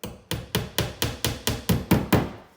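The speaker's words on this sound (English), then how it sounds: "taking my finishing nail and just hammering it in place" Nine sharp hammer strikes drive a finishing nail into a wall while probing for a stud, each blow ringing briefly before the next, steady and close.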